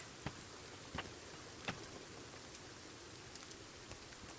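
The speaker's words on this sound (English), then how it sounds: "Rain sound is soothing?" Rain falls in the survival video game Sons of the Forest, a faint, steady hiss with a few sharp drip-like taps scattered through it and no voices.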